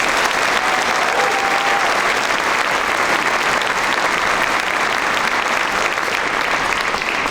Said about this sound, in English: if you can give it up, applause for her